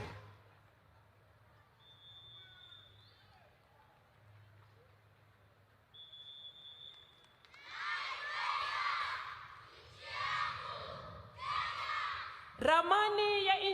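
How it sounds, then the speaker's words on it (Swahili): At a Mashujaa Day celebration in Kwale, Kenya, a stadium crowd welcomes children onto the field with waves of cheering and high trilling ululation. The sound rises in several loud bursts after a quiet, distant stretch. "Makofi na vigelegele."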